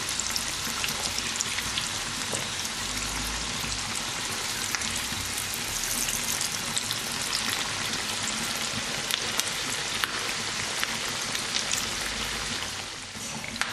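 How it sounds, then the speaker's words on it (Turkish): Rice-filled börek frying in hot oil, a dense, steady, close sizzle with fine crackling throughout, no voices. "Böreklerin bir yüzü kızardı. Diğer yüzünü çeviriyoruz. Aynı şekilde kızarınca yağdan alacağız."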